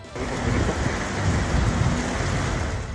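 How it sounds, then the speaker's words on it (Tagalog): Heavy, unrelenting rain pours down in Baguio City amid near-zero visibility, a dense steady wash of noise with low rumbling underneath, loud and continuous throughout with no talk. "Halos mag-zero visibility sa Baguio City dahil sa walang humpay na ulan."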